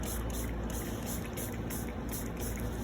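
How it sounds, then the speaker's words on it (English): A translucent permanent finish sprayed in steady, continuous bursts for a wood grain technique, a close hissing spray with a faint pulsing rhythm and no talk. "basically what you do, you just go and spray"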